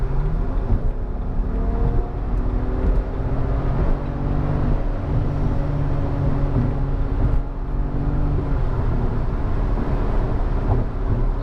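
A 2008 BMW 335xi coupe accelerates under a steady engine drone with rising harmonics, heard close from inside the cabin along with road and wind noise, no talking.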